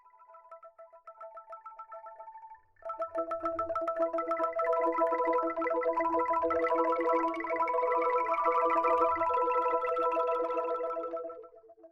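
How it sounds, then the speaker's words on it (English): An Enklang, a homemade instrument built from hardware-store parts, plays League of Legends login screen music: hollow, ringing tones that start as a sparse motif, then swell into a dense, sustained shimmering pattern before fading. "This is the sound of an Enklang,"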